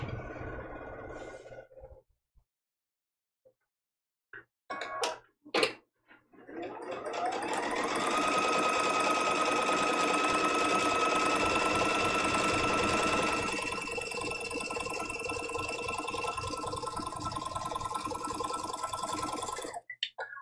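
After a few clicks and brief silence, a sewing machine whirs up and runs continuously, a steady mechanical hum of rapid stitching close by.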